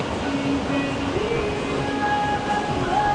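Steady low rumble of a train in motion in Brighton, with faint squealing tones from wheels or brakes drifting over the continuous noise.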